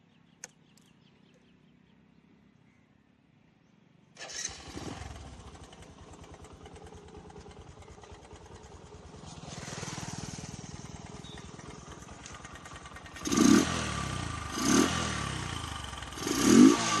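Bajaj Discover 125 motorcycle running with its air filter removed: quiet at first, then the engine starts and idles with a rough, loud exhaust note, followed by three sharp throttle revs near the end.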